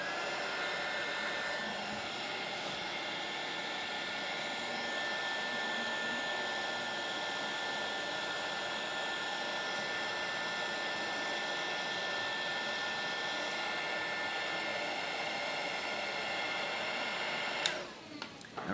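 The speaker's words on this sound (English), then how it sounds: "My heat gun." A heat gun blows hot air in a steady, even whoosh with a faint whine, running close and unbroken for nearly twenty seconds before cutting off with a brief clatter at the end.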